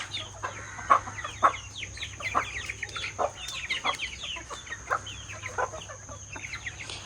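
Chickens, a rooster and a chick cluck in a farmyard: a busy, close run of irregular clucks and short squawks over a steady low background hum, with a few sharper calls standing out.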